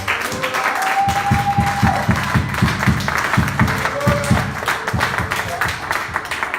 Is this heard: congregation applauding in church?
yes